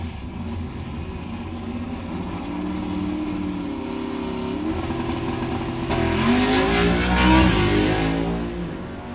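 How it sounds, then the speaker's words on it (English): A Fulton big block drag car with nitrous assist launches and pulls hard down a drag strip, its engine roar steady and then swelling louder and rising in pitch partway through the run, with no voices. "that Fulton big block with nitrous assist will take over and attempt to rocket her down the track in the mid-eights"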